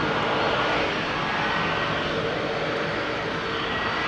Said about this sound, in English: Listen to this lovely old thing. Proper engines.